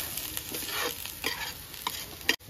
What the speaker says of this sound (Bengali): আদা রসুন বাটাটা পেঁয়াজের সঙ্গে লাল করে একটু ভেজে নেব।